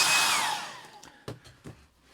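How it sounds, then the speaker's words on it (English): A hair dryer blows on colored pencil artwork, a loud close whoosh that winds down and cuts off, followed by a few sharp knocks and clicks as it is set aside. "Then I'm going to get my hairdryer and dry this"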